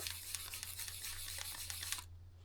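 A cloth soaked in activator cleaner wipes a rearview mirror mount, making soft, rapid scrubbing rubs in quick bursts up close that stop abruptly near the end. No one speaks.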